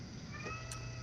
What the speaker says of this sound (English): there's a cat meowing outside her window